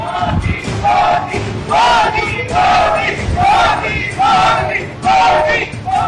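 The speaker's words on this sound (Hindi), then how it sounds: "मोदी मोदी के नारे लगा रहे हैं" A large crowd chants a two-syllable political slogan for a leader in rhythmic, repeated bursts, loud and close, at a rally in Banaskantha, Gujarat where a convoy is being confronted with black flags.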